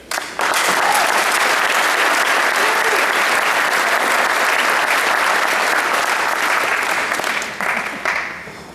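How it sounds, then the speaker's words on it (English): Audience applause for graduating seniors at a scholar club recognition event, a dense, loud wash of many hands clapping that starts abruptly, holds steady and tapers near the end. "Another round of applause for our seniors"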